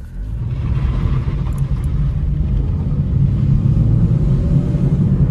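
A Hyundai Solaris car pulls away from a standstill, its low engine rumble building steadily and staying close and dominant, with no voices over it.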